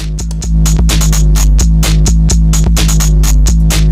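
A Gotharman's Little Deformer 2 synth with a sawtooth LFO modulating time pumps out a loud, rapid, stuttering rhythmic pattern, with heavy low end under repeated percussive hits.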